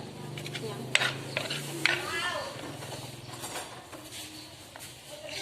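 Shallots being stir-fried in a pan in a dorm room, with a soft steady sizzle and scraping, clinking stirs, two sharper knocks early on, while a voice talks over it.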